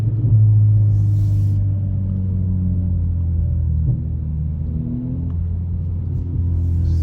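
Low, steady rumble and drone heard from inside a 2023 Acura Integra with a Remark exhaust, rolling slowly at a car wash, a deep constant hum with a slight dip partway through and no voices.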